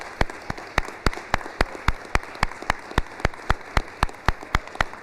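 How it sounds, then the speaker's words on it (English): Sharp, evenly spaced claps at a board of education meeting, a single steady rhythm of about three claps per second over soft background noise, honoring aspiring educators. "If you guys wouldn't mind standing up so we can give you a little round of applause."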